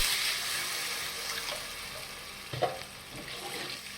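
Water goes into a pan of sizzling fried spice paste for a drumstick curry. A soft, faint hiss and crackle with a brief splashing burst partway through.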